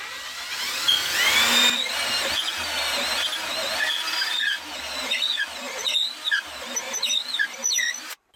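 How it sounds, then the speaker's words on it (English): A drill whines and grinds in bursts while boring a deep hole to the bit's full depth, the pitch rising and falling as it bites deeper, close and fairly loud. "we're going to drill the next one to the maximum of what our bit will allow here"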